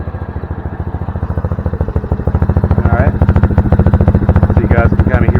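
Honda Navi motorcycle engine idling up close, a loud, rapid, even putt-putt pulse that holds steady throughout, with a voice talking over it.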